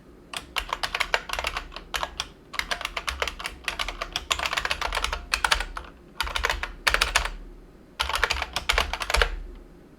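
Rapid typing on a computer keyboard in bursts of quick key clicks separated by short pauses, close and fairly loud with no voices, while a Windows 11 registry value is being entered.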